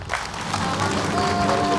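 A studio audience claps at a talk show, a short burst of dense applause rising steadily, with a voice speaking over it.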